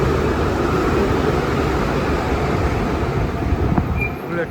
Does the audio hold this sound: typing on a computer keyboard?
no